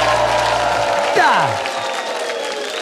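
Studio audience of a Ukrainian-language comedy game show giving an ovation, continuous loud applause and crowd noise throughout, with a short rising-and-falling tone sweeping through the middle.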